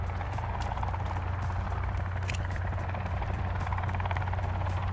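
A helicopter in the video game Sons of the Forest drones steadily overhead, its low rotor hum and rhythmic chop holding constant and fairly loud throughout with no talking.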